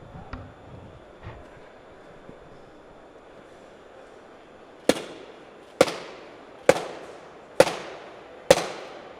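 A baseball bat strikes a lightweight riot control suit five times in a steady rhythm, each blow a sharp, loud crack with a short decay, after a few quieter knocks and shuffles.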